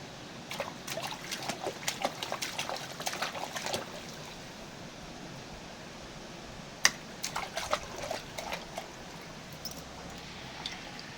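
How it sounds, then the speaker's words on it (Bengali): Water splashes and trickles as a baby plays with it outdoors, in soft irregular bursts that come and go, fairly faint and close, with no talk. "চোখে মুখে লাগুক না জলটা ছিটকে"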